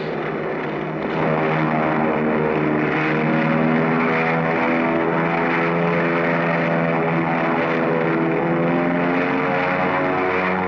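A propeller airplane taking off in a 1940 film scene, with a loud, steady engine drone that swells slightly early on and holds, with no voices over it.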